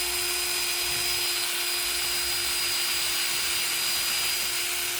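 Power drill boring a hole into wood for a wooden lamp, a steady continuous whine running loud and close for the whole stretch with no pauses.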